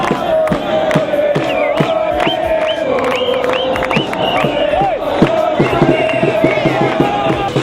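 Crowd of football fans at a World Cup viewing of Argentina against Serbia and Montenegro, loudly cheering, whooping and chanting together in a dense, continuous roar of many voices.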